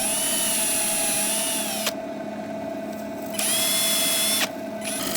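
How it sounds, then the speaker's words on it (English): A power drill whines steadily up close, boring a depth hole in a wood bowl blank for turning, its pitch holding then cutting out briefly twice, with a grinding undertone beneath. "I still like to take the time to drill a depth hole"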